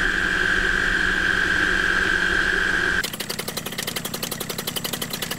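A small two-stroke paramotor engine drones steadily with a high whine, then switches to a rapid, buzzy rhythmic putter, loud and close throughout.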